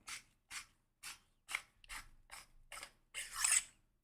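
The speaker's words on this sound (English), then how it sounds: "you need to hold the speaker vent piece when you're screwing and unscrewing the handle on and off" A lightsaber staff handle being screwed and unscrewed, heard as eight short, bright scraping ratchety bursts in a steady rhythm, close and alone, with the last burst longer and louder.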